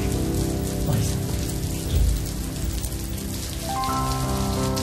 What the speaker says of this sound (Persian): بارون میاد